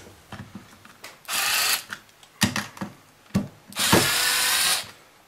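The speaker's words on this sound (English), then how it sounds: "I'm going to use an electric screwdriver" An electric screwdriver undoing screws on a Bose SoundDock Portable connector: short whirring bursts separated by brief clicks and pauses, close and fairly loud, with no talk.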